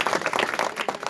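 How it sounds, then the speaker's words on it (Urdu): A crowd at an outdoor political election rally claps and applauds steadily, a dense wash of many hands at moderate distance with no voices over it. "تالیاں۔"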